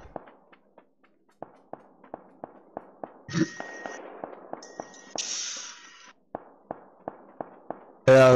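Sharp gunshots ring out from a PUBG match, fired in a steady series of single reports at mid distance, joined by occasional brief metallic clangs and a loud burst near the end.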